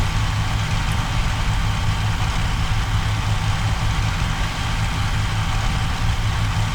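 A steady, droning aircraft engine hum at low revs, around 2500 RPM cruise, from a P-40C in the game IL-2, even and unchanging throughout, with a deep throbbing tone and no talking.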